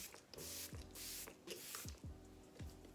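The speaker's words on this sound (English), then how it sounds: "then I'm going to use my setting spray, my Lasting Fix spray." L'Oreal Lasting Fix makeup setting spray hisses in several short, close bursts of fine mist, each a few tenths of a second long, repeated at a steady pace with brief pauses and no talking.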